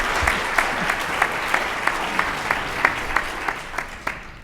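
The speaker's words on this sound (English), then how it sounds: "Let's give them a round of applause" An audience gives a panel on living with narcolepsy a round of applause, steady claps spread across the room at moderate distance, lasting the whole stretch with a few sharper individual claps standing out.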